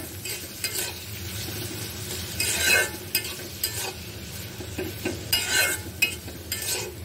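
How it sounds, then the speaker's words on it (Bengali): Chopped onion and garlic frying in soybean oil sizzle continuously up close, punctuated by repeated louder bursts of spatula stirring and scraping against the pan. "তো আস্তে আস্তে আমি পেঁয়াজটাকে হালকা বাদামি করে ভেজে নিচ্ছি।"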